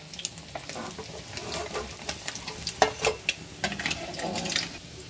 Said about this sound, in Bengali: মাছগুলো এরকম ভাবে লাল করে ভেজে নেব।